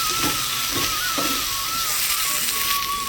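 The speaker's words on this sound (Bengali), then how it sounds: "এবার আমি ভালো করে নেড়ে নেবো, মশলাটা কষিয়ে নেবো ভালো করে আলুর সঙ্গে আমি।" Spices and potatoes are stir-fried in a pan for a village-style dish, giving a steady sizzle with faint scraping and stirring knocks throughout.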